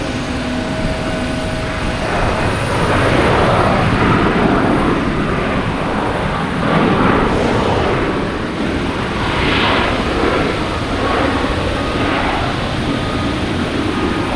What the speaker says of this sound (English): United Airlines, a 737 MAX 9 coming in from